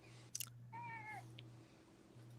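A house cat meows once, a clear rising and falling call rather faint against a constant low electrical hum, preceded by a brief rustle.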